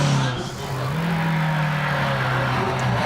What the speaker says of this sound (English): it's a replica GT40, but it looks the part, it sounds the part, and he's not shy about giving that a good punting